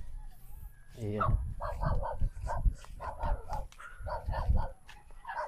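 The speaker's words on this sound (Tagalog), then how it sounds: "Baka manuka tong aso." A dog barks outdoors in rainy weather near old narra trees, firing off repeated short barks in quick clusters, fairly close and clear, with no other voices.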